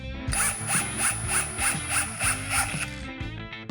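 A Procraft CD20B cordless drill-driver drives a screw into wood in impulse mode at second speed, a close, steady whine under a fast, even stutter of pulses that stops near the end.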